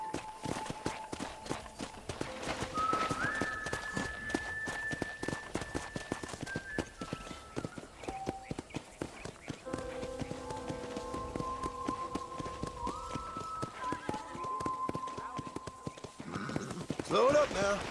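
Horse hooves clip-clopping at a steady walking pace in the Red Dead Redemption ranch setting, moderately close, running under game music and character dialogue throughout.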